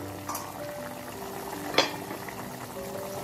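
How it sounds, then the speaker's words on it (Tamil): A pot of tamarind curry with white kidney beans bubbles and simmers steadily at close range, with a soft continuous liquid hiss and one brief louder splash-like burst. "நல்லா கொதிச்சுட்டு இருக்கு"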